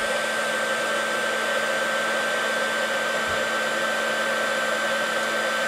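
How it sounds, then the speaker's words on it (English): A heat gun blows continuously, heating a handmade card from underneath, giving a loud, steady whooshing roar with a faint constant whine that holds unbroken throughout. "I've got my gun, heat gun, and I'm just going to heat that from underneath"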